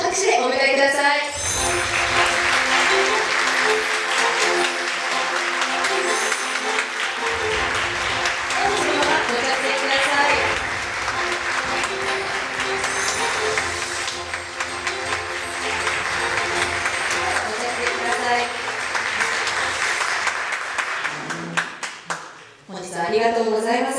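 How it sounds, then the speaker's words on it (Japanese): Sustained applause from a live audience welcoming four Naoki Prize-winning authors onto the stage at a Bungeishunju literary event in Japan, a dense, steady roar of clapping that lasts over twenty seconds and then quickly dies away. "それでは皆様どうぞ拍手でお迎えください"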